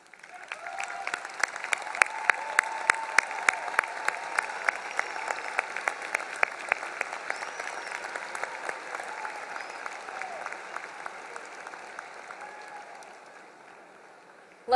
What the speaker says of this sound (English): Please, we'd like all of you to stand so we can recognize and applaud all of you.